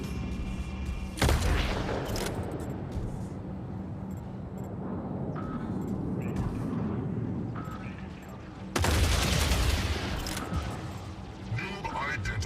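Heavy weapon fire and explosions from mechs in the Mech Arena video game, dense and continuous with loud bursts, under a synthetic announcer voice.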